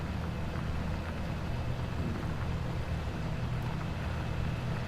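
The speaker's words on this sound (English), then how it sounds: "It's a very strong combination between this tractor and this plough." Tractor pulling a plough in Farming Simulator 17 gives a steady, loud, low engine drone with constant rumble throughout, no talking over it.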